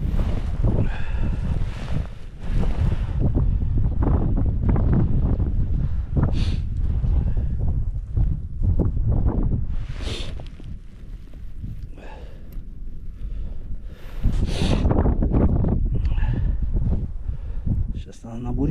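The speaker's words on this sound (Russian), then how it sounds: "Ветрище, конечно, жесть просто на улице." Strong gusting wind roars across open ice during ice fishing for perch, a loud continuous rush with buffeting bursts over the microphone, while someone talks at intervals.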